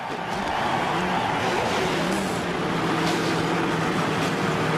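Race car engines fire up at the 2.5-mile Daytona International Speedway superspeedway in Daytona Beach, Florida, for the 2001 Pepsi 400, a dense continuous roar of many engines with faint commentary underneath.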